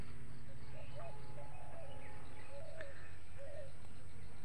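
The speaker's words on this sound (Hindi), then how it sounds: "देखिए चिड़िया" Birds call in a rural Indian village in the early morning, giving several short, faint, repeated chirps and coos over a constant low background hum.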